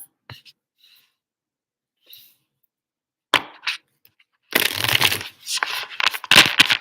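Quiet taps and rustles give way to a run of card shuffling, with riffling bursts of papery flutter near and clear, alone without talk.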